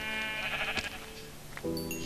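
Sheep bleating in the video game Minecraft, two wavering bleats in quick succession, close and clear against a faint background.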